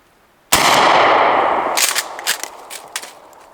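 A Mossberg Shockwave 12-gauge fires a single loud, close blast that rings out and decays, followed by faint rattling and clatter as debris or parts land.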